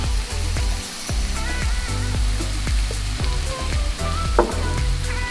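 Eggs sizzle and fry in a pan for a lobster tail omelette, with a steady close crackle and occasional scrapes or taps of a utensil against the pan, no talking.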